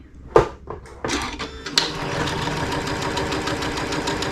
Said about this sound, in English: feed it through the machine, because I'm sewing a 1/4 inch to the left